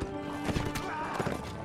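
Horse hooves galloping in the Mount & Blade video game during a siege defense battle, a rapid, dense clatter of many cavalry mounts mixed with battle din and a brief whinny, loud and close throughout.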